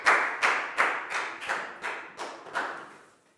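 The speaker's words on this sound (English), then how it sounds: "Big round of applause for Prau." A primary school class claps for a student in an English lesson: seven distinct, evenly spaced unison claps, each ringing briefly in the room and fading toward the end.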